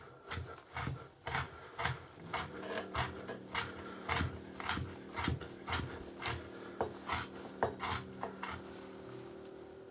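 Large carrots are sliced with a knife on a cutting board in a quick, even rhythm of about two dozen crisp strokes, close but faint, with no talking.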